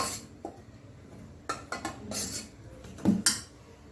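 Spoon scraping and knocking against a bowl while potato bhaji batter is mixed, a few close clinks and scrapes at irregular intervals with quiet gaps between.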